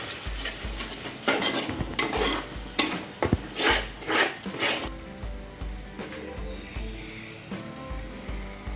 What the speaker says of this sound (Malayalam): അടുത്ത നമ്മൾ മിക്സിയിൽ അരച്ച അരപ്പെല്ലാം കൂടി അതിലേക്ക് ആഡ് ചെയ്യണം.